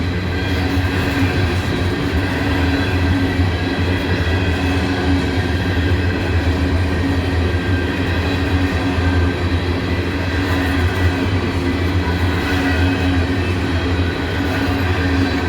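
A long string of empty freight cars rumbling by up close, flat-spotted wheels pounding out a steady rhythmic clack over a constant heavy roar of rail noise, with faint squeals and no speech.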